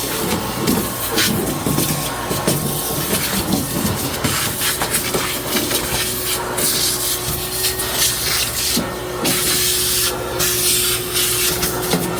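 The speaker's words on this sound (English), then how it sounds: "Vacuum up some of these little crumbs that's here." A vacuum cleaner sucks up small crumbs with a loud, steady roar and rattling, hissing debris noise that runs unbroken from start to end.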